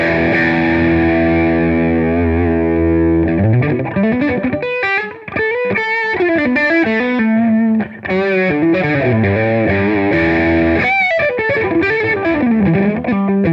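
Electric guitar played through a Boss JHS JB-2 overdrive pedal, giving a thick, mid-heavy rock tone: a loud sustained distorted chord, then a run of choppy riffing and bends, played alone without talk.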